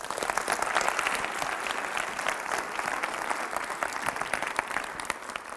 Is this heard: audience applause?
yes